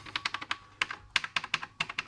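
Typing on the keyboard of an Electronica CIP-03 Spectrum clone computer, rapid close clacking keystrokes in short bursts with brief pauses, no voices.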